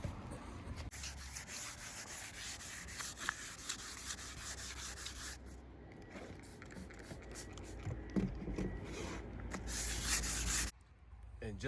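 Hand sanding across a car roof's sun-damaged, cracked paint gives a steady, close scratchy rubbing that runs unbroken, then stops abruptly near the end.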